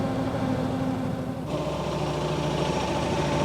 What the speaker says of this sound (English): It's actually powered by a 13 horsepower Kubota engine